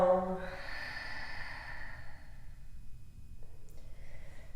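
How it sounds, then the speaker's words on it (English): A slow, audible breath out during a yoga exhale, starting with a short voiced sigh and trailing into a soft, breathy release, close and alone without talk. "Exhale."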